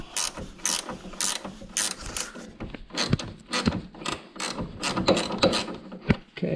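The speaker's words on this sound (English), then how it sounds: "And you just ratchet it off." A hand ratchet backs off the sway bar link nut on a C6 Corvette, giving close, quick bursts of clicking in uneven spurts with short pauses between strokes, and no one speaks.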